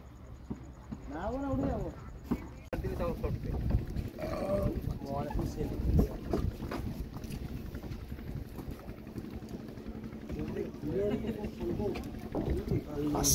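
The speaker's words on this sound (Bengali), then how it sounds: "এই আমরা সমুদ্র মানে নদী পেরিয়ে তুষখালির দিকে যাচ্ছি" A boat crosses a river toward Tushkhali at sunset, giving a steady low water and motor rumble with wind noise throughout, and people talk over it.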